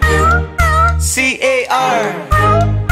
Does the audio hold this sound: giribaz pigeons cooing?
no